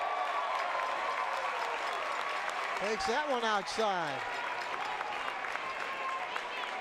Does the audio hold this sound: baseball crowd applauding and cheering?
yes